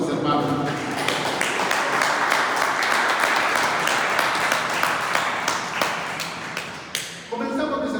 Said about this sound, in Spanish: ¿Cómo le dan un fuerte aplauso a nuestro Dios, mis hermanos?